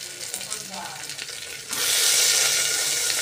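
Green chillies hit hot oil with fried onions, first a quieter stir and sizzle, then a sudden louder burst of close, steady frying as they go into the pan.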